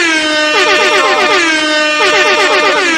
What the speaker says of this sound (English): We about to give multiple air horns.